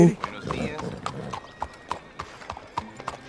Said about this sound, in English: ¿este es mi caballo? Está en blanco.